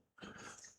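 A French bulldog snorts and growls close by, a short rough burst that starts abruptly and holds steady, with harsh breathy texture and no talking.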